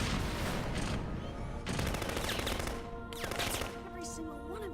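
Gunfire in Xenosaga Episode 1 as children are shot down, heard as bursts of rapid shots mixed with game music and effects, fairly loud and continuous through the scene.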